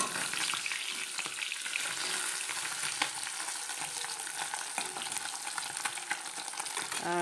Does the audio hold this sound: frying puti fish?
yes